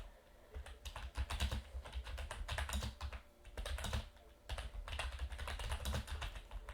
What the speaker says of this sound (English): Bear with me here, folks, as I am typing out the title here.